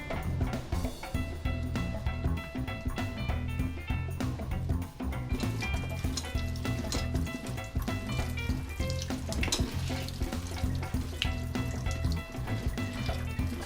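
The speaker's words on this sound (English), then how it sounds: "we give the tomatillos a thorough washing until the sticky part" Tomatillos are washed under running tap water, a continuous loud splash and rush of water close by, with faint clatter as the fruit is handled, and no voices.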